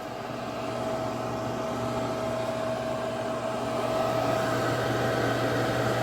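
A brand new Amana AOC24 heavy duty 3,100-watt commercial microwave oven running a 15-second cook: a loud, steady fan-driven whir with a constant electrical hum, close and unbroken throughout, no voices.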